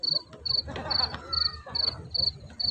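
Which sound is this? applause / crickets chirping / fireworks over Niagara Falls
crickets chirping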